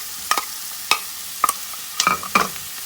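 Onions with garlic and ginger paste sizzle in a pan while a spoon scrapes and stirs in sharp, irregular strokes, close and clear over a low frying hiss, no talking.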